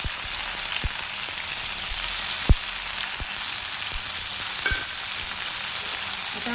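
Garlic and ginger frying in oil in a pan, a steady close hiss and crackle with scattered sharp pops and a few soft taps of a utensil.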